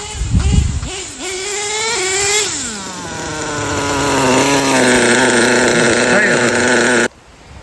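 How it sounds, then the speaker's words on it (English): An LRP nitro engine in an HPI Savage 25 RC truck with a Revo tank mod, running a torture test, revs hard with a loud, buzzing high-pitched whine that climbs and holds steady for several seconds before cutting off abruptly. "This LRP engine is amazing."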